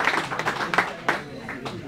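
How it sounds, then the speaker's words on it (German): Scattered clapping from an ice hockey crowd greeting the team before a EHC Bayreuth versus EHC Freiburg game, over a murmur of voices, a few claps standing out sharply, moderately loud. "Bitte Applaus für unsere Mannschaft"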